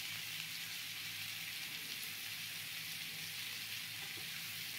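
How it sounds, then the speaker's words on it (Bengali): Pieces of pointed gourd and potato frying together in a pan, a steady close hiss and crackle of oil that holds even throughout with no talking. "একই সঙ্গে পটল আলু ভেজে নেব।"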